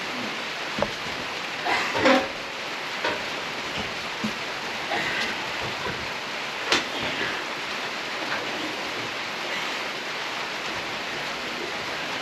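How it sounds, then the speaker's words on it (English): Steady rain hisses as a constant wash of noise outside a shed, with occasional louder drips and taps landing nearby. "And yeah, it's raining."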